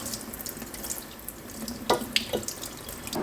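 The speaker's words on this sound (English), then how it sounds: "I also rinsed some potatoes." Tap water runs steadily over small potatoes from the garden being rinsed by hand in a sink, a close continuous splashing stream with a few brief drips and clinks.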